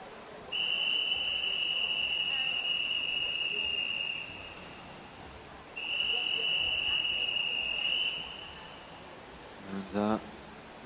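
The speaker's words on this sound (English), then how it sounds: "we will get the first of our whistles, not bells today, coming up in a moment" Two long, shrill whistle blasts ring out at a swimming race during the Winter Short Course Championships, each held for several seconds over a noisy crowd, with a brief voice near the end.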